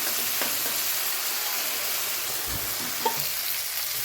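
Masala frying in oil for a crab curry, a steady close hiss and sizzle with a few faint stirring clinks.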